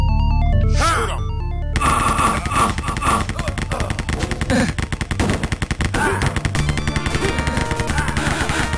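Rise of the Triad video game gunfire, rapid repeated automatic shots in a steady rattling stream, loud and close over game music, with a voice briefly heard.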